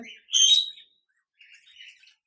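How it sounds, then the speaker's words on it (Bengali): A pair of budgerigars in a cage gives a sharp, bright chirp followed by a softer, fainter twittering burst after a short pause, close by with no talking. "বাজরিগার পাখি রয়েছে,"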